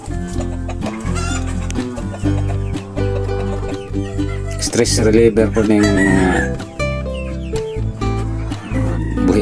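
Backyard heritage chickens clucking and crowing in a farmyard, with several birds calling over steady background music and a voice speaking at times; the calls come repeatedly at moderate distance.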